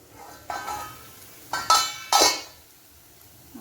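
Okra in a half-covered pan gets stirred over low heat, with three distinct clinking, scraping strokes of a spoon against metal, close and clear over quiet background, with no talking.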